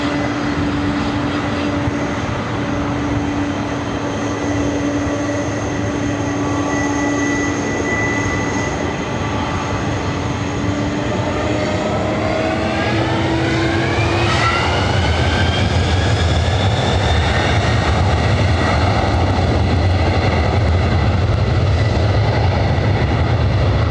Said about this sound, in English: The 767 rolling down.